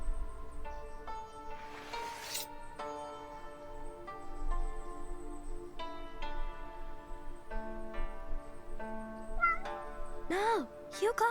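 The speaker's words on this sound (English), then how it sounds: "What's going on? A little tiny cat." Small cat meows come from the video game The Spirit of the Samurai, heard over a busy game soundtrack with music and ambient effects.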